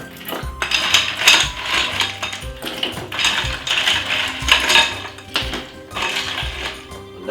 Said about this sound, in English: put a lot of ice inside of it like this